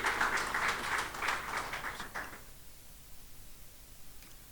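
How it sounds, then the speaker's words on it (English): Applause from a conference audience, dense and steady at first, then thinning out and fading to a quiet room after a couple of seconds. "A round of applause for him."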